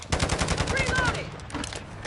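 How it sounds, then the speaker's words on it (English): Rapid automatic gunfire in Modern Warfare 2, a close, loud burst of evenly spaced shots for about a second, then trailing off into quieter fire and game noise. "Taking effective fire."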